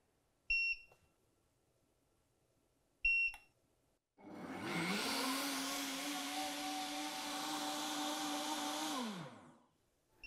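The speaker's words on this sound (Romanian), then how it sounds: "voi lăsa blenderul să-și facă treaba" Two short electronic beeps, then a Tefal PerfectMix Cook high-speed blender making plant milk spins up to a loud, steady whir for about five seconds before winding down.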